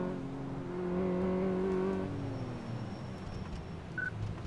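Car engine on a test drive course in Car Mechanic Simulator 2014, revving with a rising tone for about two seconds and then easing off to a low idle, followed by a brief electronic beep near the end.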